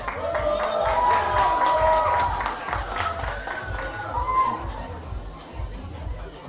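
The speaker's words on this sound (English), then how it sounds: "So can we have a loud round of applause for them?" An audience at a beauty pageant claps in rapid, rhythmic bursts amid crowd chatter and scattered whistles, the applause loud and close, then thinning out.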